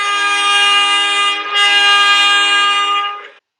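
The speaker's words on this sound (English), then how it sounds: "We are rollin' on the underground mining railway in Kimberley, British Columbia" Horn of an underground mining railway train at the Sullivan lead-zinc-silver mine in Kimberley, British Columbia. It is a loud, sustained, steady-pitched blast lasting about three seconds, with a brief dip in the middle, then cuts off.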